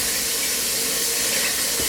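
Tap water runs steadily into a sink as hands are washed in a home kitchen during sourdough baking, a close, continuous rushing splash with no speech.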